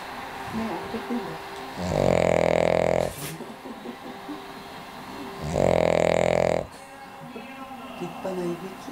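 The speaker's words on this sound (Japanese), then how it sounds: "立派ないびき。" A Cavalier King Charles spaniel snores loudly, two long, rasping snores a few seconds apart with quieter breathing between them.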